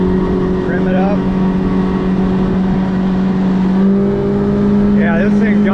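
A Yamaha F90 outboard motor on a 17 Wildcraft boat runs wide open and trimmed up, pinned against the rev limiter. The engine makes a loud, steady, close droning roar throughout, with a voice briefly audible beneath it.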